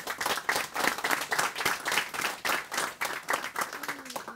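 An audience applauds at a rabbi's lecture, a steady wash of many hands clapping, close and fairly loud, running without pause for the whole stretch.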